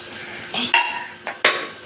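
Fried katla fish pieces drop into a boiling curry with potato and green banana, giving a couple of clinking utensil knocks and soft splashes against a quiet simmer.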